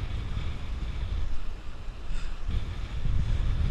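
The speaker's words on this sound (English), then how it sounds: "Big gust of wind" A strong gust of heavy wind hits a Sunfish sailboat under sail, roaring across the microphone as a loud, rough low rumble that dips briefly and then surges again, with water sloshing beneath.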